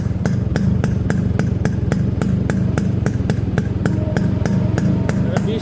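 A Yamaha RX 100 motorcycle engine running at a steady idle, its two-stroke exhaust giving a fast, even thrum with a regular ticking clatter, loud and close throughout.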